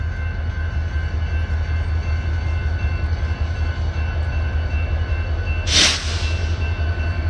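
A train at a station in Oklahoma, with steady low rumbling and a continuous mechanical hum throughout, and a brief bright hiss or burst near the end; no talking.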